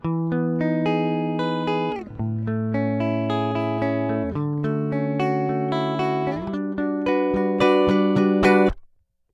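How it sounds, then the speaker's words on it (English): A clean, unprocessed electric guitar plays chords and single notes in a steady strummed rhythm, bright and close, with no echo or distortion. "you can hear this left guitar is completely dry"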